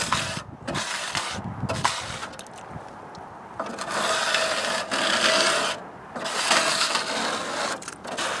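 Harsh, gritty scraping as dirt and material are raked down inside a gold sluice on a highbanker, a loud close rasp in long strokes with brief pauses between passes.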